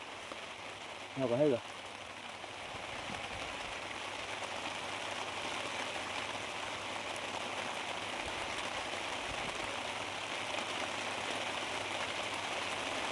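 Steady rain keeps falling outdoors, a soft continuous patter and hiss that runs evenly throughout, with a voice speaking briefly near the start.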